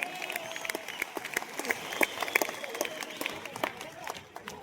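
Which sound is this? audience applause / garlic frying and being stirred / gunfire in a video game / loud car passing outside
audience applause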